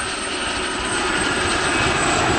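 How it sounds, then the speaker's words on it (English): Aérospatiale Gazelle helicopter with a ducted fenestron tail rotor flying at the Southport airshow, a loud, steady turbine whine and rotor roar that grows slightly louder over a short stretch. "It was the first helicopter to feature this distinctive ducted tail rotor on the back called a fenestron."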